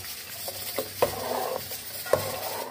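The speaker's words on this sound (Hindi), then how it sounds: "इसको हम अच्छे से हिलाते रहेंगे।" Custard being stirred in a pot, with a few distinct scraping and clinking strokes of the spoon against the pot over a soft, steady background and no talking.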